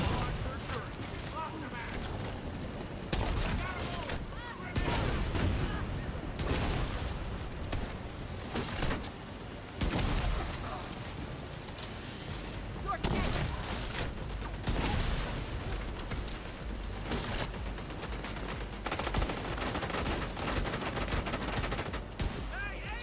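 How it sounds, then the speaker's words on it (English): Dense gunfire in The Division 2 pelts a player's shield, with bursts and rapid volleys running almost constantly, loud and close, while a voice talks over much of it. "they were shooting my shield so much I couldn't"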